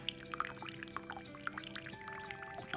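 Jamaican Blue Mountain coffee drips through a pour-over filter with a quiet, continuous trickle and scattered small drops, faint and close, over a soft background hum.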